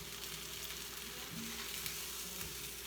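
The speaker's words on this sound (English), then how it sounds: "I'm cooking, it's sizzling," Sausages frying in a pan give a continuous, close sizzle with soft crackling, steady throughout, with no talking.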